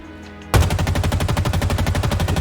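Halo Infinite AR assault rifle firing a sustained full-auto burst, loud and close, with rapid evenly spaced shots kicking in abruptly after a brief quieter lead-in.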